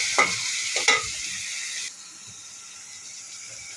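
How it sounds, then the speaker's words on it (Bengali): Shrimp frying with onion, chilli and garlic gets stirred in a pan: a couple of sharp scraping clatters over a bright sizzle that suddenly drops to a quieter, softer hiss for the rest. "চিংড়ি মাছটাকে একটু ভেজে নেব। ভেজে নিয়ে পেঁয়াজ মরিচ রসুন ছেড়ে দেব। ছেড়ে নাড়তে থাকব।"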